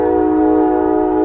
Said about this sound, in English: just a very vocal train